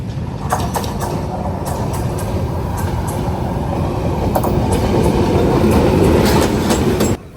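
A local train rumbles and clatters along the tracks as it arrives at a station, growing louder before cutting off abruptly. People talk in the background.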